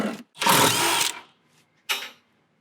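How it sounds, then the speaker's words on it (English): A power tool backs out 13 mm bolts on a 2021+ sixth-generation Ford Bronco during a side step install. Two loud, close bursts sound: a long whirring one and then a short one, with quiet between them. "now we've got to pull these 13 mil bolts out"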